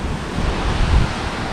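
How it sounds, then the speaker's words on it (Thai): Strong cold wind gusting before dawn at an outdoor running event in Chanthaburi, a steady loud roar of rushing air buffeting the microphone, swelling slightly near the middle, with no talking. "แต่ลมแรงมาก"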